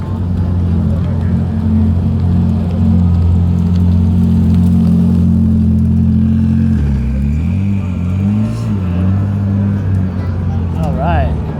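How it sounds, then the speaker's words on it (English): Race cars at the Long Beach Grand Prix give off a loud, sustained engine drone with steady low harmonics, shifting in pitch as they pass, with people talking nearby. "So cool to be seeing that, hearing all the cars roar and get on inside."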